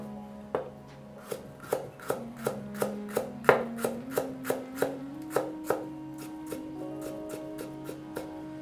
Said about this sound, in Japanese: にんにくと生姜は粗みじん切りにしていきます。